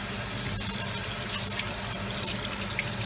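Cold tap water runs steadily into a kitchen sink while a raw turkey is rinsed under it, a continuous close splashing rush with no pauses.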